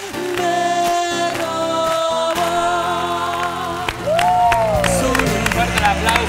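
A studio audience on a variety program applauds and cheers while music with sustained tones plays, the clapping swelling louder in the latter half amid crowd noise.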